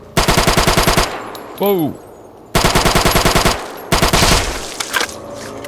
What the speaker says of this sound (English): Yo, this gun shoots a lot slower than the other one.